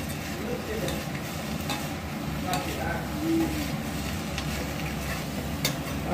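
Onions sauté in a hot pan for onion chutney, giving a steady close sizzle with occasional scrapes and stirring clinks throughout.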